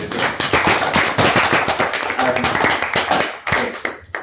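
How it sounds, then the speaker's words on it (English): Audience applause for a speaker at a linguistics scholars' club talk, loud close clapping from a small group with sharp individual claps, some voices mixed in, fading near the end. "let's have a big round of applause, Christian"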